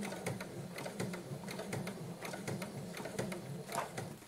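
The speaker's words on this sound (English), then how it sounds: "I guess no matter what sewing machine I have, you have to go slow." A sewing machine stitches lace at slow speed, giving a faint, rapid series of mechanical clicks and taps in a steady rhythm throughout.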